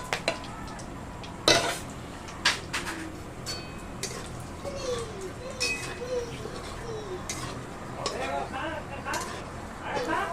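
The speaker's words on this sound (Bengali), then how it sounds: "নাড়াচাড়া করে নিলাম।" Food being stirred in a cooking pot in a home kitchen, with scattered metallic scrapes and clinks of a utensil against the pot, fairly close, alongside faint chirping in the background.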